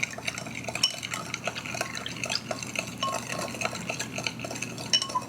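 A soy sauce mixture for katsudon being stirred in a bowl, a soft continuous swishing of liquid with faint clinks of utensil against the dish, close and quiet.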